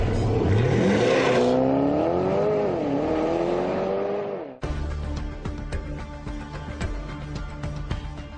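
A Porsche Panamera four-door sports car accelerates hard, its engine note climbing through strong rising harmonics and a gear change, loud and close, then cutting to a busier, clattering section with engine rumble and sharp transients.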